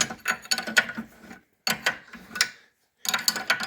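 Wrench unscrewing a bolt on a Poni 3000 seed drill, heard as three bursts of clicking, ratcheting metal work separated by short pauses, close and fairly loud.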